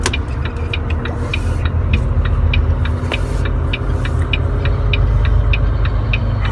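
A truck rolls into an unloading dock with a steady, loud engine rumble, and sharp ticking clicks recur at a regular rhythm over the drone.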